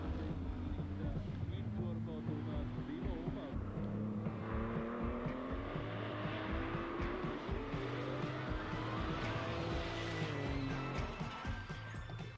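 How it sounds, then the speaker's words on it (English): A Lotus Omega with a sporty exhaust laps a circuit, its engine note rising and falling through gear changes, heard at a moderate distance, quiet and continuous, with a voice talking over it. "And it sounds nice too. It's got a good exhaust on it."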